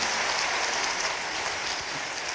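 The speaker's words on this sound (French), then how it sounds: "On vous applaudit très fort." Audience applauding after a hospital talk on pain, a steady dense clapping wash at moderate distance, continuous throughout with no voices.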